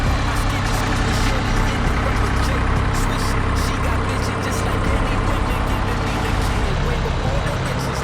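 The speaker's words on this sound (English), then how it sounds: "And then he'll kick on the stacker first, and then hit the main screener" Engines on a topsoil screener and stacker run with a loud, steady, close diesel drone, and a voice talks over it.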